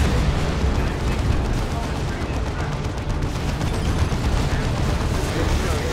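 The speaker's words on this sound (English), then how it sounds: "Was that some friendly las cannon shots?" Friendly las cannon fire in a Dawn of War II: Retribution battle, a dense continuous roar of blasts and explosions under a talking voice, loud and sustained.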